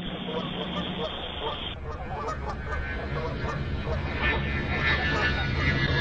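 Geese honk just before striking a climbing airliner on departure, heard over a steady loud roar of cockpit and engine noise, with voices talking throughout.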